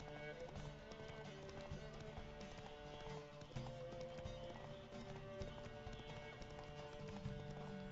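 A horse galloping in the video game The Witcher 3 during a race, rapid rhythmic hoofbeats running continuously with game music and ambience underneath.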